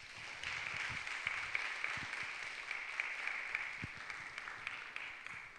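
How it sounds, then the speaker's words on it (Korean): A church youth-service congregation claps for a newly married couple, a steady, fairly soft patter of many hands spread across the room, with no talking. "박수 한번 부탁드리겠습니다."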